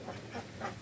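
Three short nasal quacks from ducks on a backyard farm, evenly spaced over a steady background hum, moderately close.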